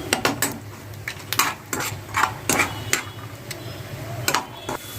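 Peanuts fry in oil in a pan and are stirred with a utensil, giving repeated sharp scraping clatters over a light, steady sizzle, close and fairly loud, with no voices.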